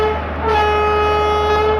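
An Indian train running at speed in a train simulator video game, a loud, sustained horn tone over a steady mechanical rail rumble, with no talking.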